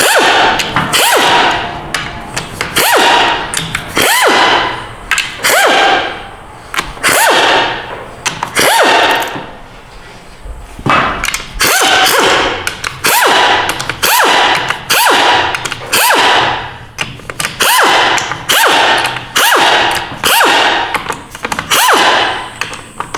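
Bolts are worked loose from the valve body of an RE4R01A automatic transmission, giving a loud, rapid series of sharp whip-like cracks and ratcheting bursts that repeat steadily with brief pauses between them.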